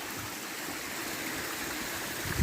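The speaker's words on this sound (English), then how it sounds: "So we come to this nice stream," A stream spilling over a small waterfall along a hiking trail, a steady broadband rush of flowing water heard close by, continuous and even throughout with no voices.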